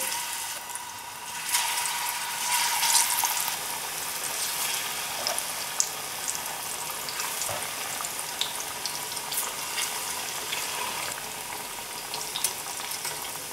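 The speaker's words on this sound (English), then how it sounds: "So now we can start putting the plantains in the oil, very carefully." Sweet plantain pieces fry in hot coconut oil with a dense, steady sizzle and scattered sharp crackles and pops, close and unbroken throughout, with no talking.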